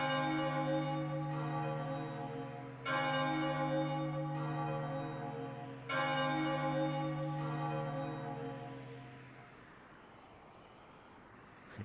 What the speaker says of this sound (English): Ring far and wide, O Bell of Oblivion.